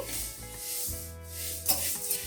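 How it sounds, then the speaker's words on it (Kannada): Flattened rice (avalakki) being stirred and dry-roasted in a pan over medium flame, giving a continuous scraping, rubbing rustle with a brief louder scrape near the end. "ಮೀಡಿಯಮ್ ಫ್ಲೇಮಲ್ಲಿ ಇಟ್ಕೊಂಡು ಹುರಿಯಿರಿ"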